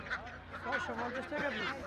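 Ducks being unloaded from a vehicle at a village market in Bangladesh give out repeated nasal honks and quacks, fairly close and continuous, with market chatter around them.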